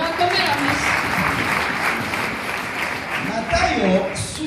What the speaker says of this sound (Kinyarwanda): tunaweza kuwapigia makofi hao jamani